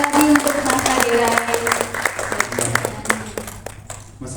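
An audience applauds at an Indonesian health talk, with a burst of clapping and crowd noise fading into scattered claps while a voice speaks over it.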